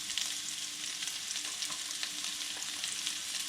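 Onions, garlic and green chili fry in a pan for chicken curry, a soft, steady crackling sizzle with faint stirring ticks, close up and with no talking.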